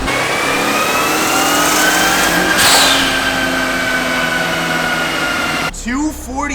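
Mitsubishi Lancer Evo with a stock turbo revving hard on a dyno, a loud sustained rising engine roar that hits boost cut and breaks up, then drops away near the end as voices talk over it.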